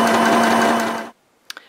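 Sewing machine backstitching a quarter-inch seam on a fabric gift bag: a loud, steady, close whirring run for about a second that stops abruptly, followed by near silence and a couple of faint clicks.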